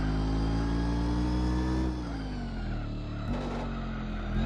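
TVR Griffith engine in the racing game Gran Turismo 4, a loud steady high-revving drone that dips as the revs fall, then picks up again with a brief gear-change break.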